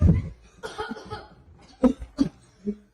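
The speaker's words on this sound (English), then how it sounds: "I can't stop coughing." A person coughs in a string of harsh bursts during a staged school presentation skit, loud at the start and then in several sharp fits spaced over a few seconds, close to the listener.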